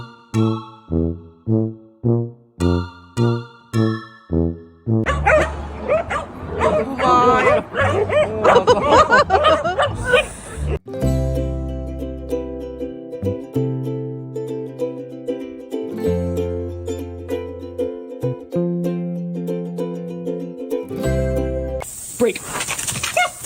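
A female dog yelps in a fast, rhythmic series of whimpering cries, then breaks into louder, busier barking, followed by a stretch of steady tonal, music-like sound near the end.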